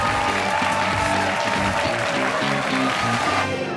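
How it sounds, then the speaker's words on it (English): A studio audience at a high school quiz show gives the competing teams a short, steady round of applause, with low music tones running beneath the clapping. "Let's have a round of applause for both"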